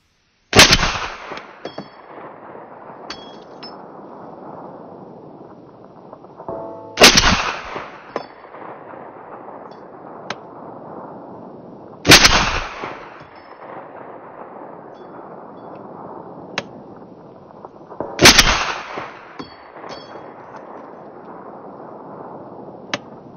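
Four loud, sharp reports from an IWI Tavor 7 .308 bullpup rifle, spaced roughly five seconds apart, each ringing briefly over a steady background hiss.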